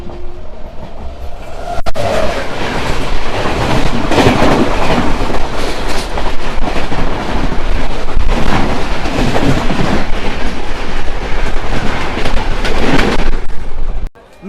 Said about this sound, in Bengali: চলে আসছে গাড়ি নম্বর 12352 রাজেন্দ্রনগর টার্মিনাল থেকে হাওড়া সুপারফাস্ট এক্সপ্রেস।